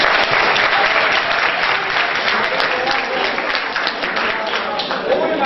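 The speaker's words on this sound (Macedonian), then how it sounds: "Овој нашиот аплауз многу зборува" An audience at a school forum theatre performance claps in dense, sustained applause, loud and close, with voices murmuring underneath.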